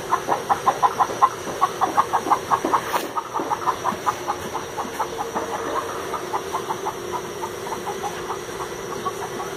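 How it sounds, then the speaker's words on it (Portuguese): Chicken clucking close by in a rhythmic series of short, even clucks that slowly fade in strength over several seconds, against a low steady background hum. "Tem uma galinha aqui?"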